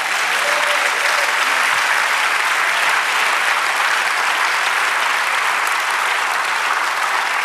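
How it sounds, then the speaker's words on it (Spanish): Steady, dense applause from a large church congregation during a sermon fills the whole stretch at an even, loud level without letting up. "Dale un aplauso al Señor."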